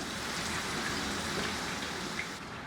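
Pieces of papaya and potato frying in hot oil for a lentil dish, a steady dense sizzle and crackle heard close up without any talk.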